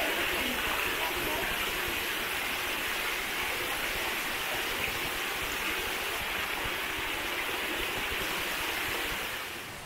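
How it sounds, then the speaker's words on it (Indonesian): A river fed by a waterfall rushes over rocks in a steady, broad hiss of flowing water, close and continuous throughout. "Jadi ini kita ngelewatin sungai. Sungai ini airnya dari air terjun itu."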